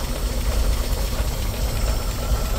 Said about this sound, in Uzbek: Hozir mana motor ishlab turgan holati.